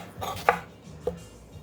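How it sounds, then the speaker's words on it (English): A knife slices through a fresh mango on a cutting board, two distinct sharp clicks as the blade meets the board, close and crisp, with faint soft rustling between them. "Cut the mango"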